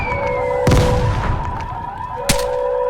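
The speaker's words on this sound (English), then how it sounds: "And yeah, the mortars come down." Mortar shells explode in the video game Vigor, with two heavy booming impacts spaced apart over a steady tonal hum, loud and close.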